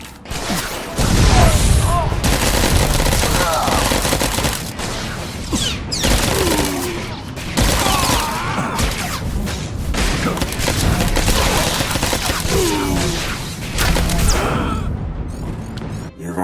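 Blaster-style gunfire in Star Wars: The Old Republic, rapid bursts of shots and booms sustained throughout a firefight, loud and dense, with occasional voices mixed in.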